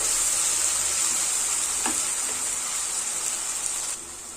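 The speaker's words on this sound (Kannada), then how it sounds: "ಚೆನ್ನಾಗಿ ಮಿಕ್ಸ್ ಮಾಡೋಣ. ಈ ತರ ಒಂದು 10 ರಿಂದ 15 ಸೆಕೆಂಡು ಮಿಕ್ಸ್ ಮಾಡಬೇಕು." Masala frying in a pan, a steady bright sizzle that fills the whole stretch, with a brief scrape of the stirring spoon partway through and the hiss easing slightly near the end.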